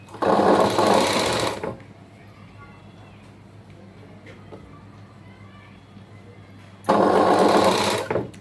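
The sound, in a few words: sewing machine stitching a blouse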